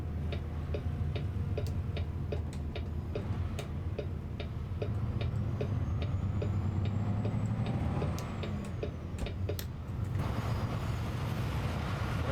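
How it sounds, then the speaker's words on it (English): Passing train heard in American Truck Simulator, a steady rumble with rhythmic ticking clacks throughout, under ongoing truck engine noise. "there's a train somewhere, but I can't see it. But I sure as hell can hear it"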